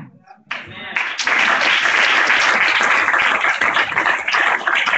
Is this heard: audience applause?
yes